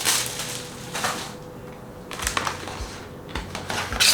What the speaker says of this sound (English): Let me pull out this bag.